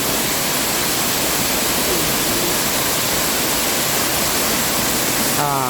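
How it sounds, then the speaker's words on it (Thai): Mae Sawan Noi waterfall in Mae Sariang, Thailand, roars as a loud, steady, dense rush of falling water that fills the whole clip without a break. "น้ำตกแม่สวรรค์น้อยชั้น"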